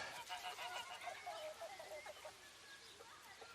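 A goose named Carlos honks in a noisy run of calls, with other fowl chattering and squawking nearby.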